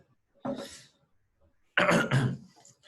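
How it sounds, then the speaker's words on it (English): A man with jet lag coughs twice, a short single cough and then a longer harsh burst of several coughs, close and loud with quiet between. "Oh my god, I'm seriously coughing"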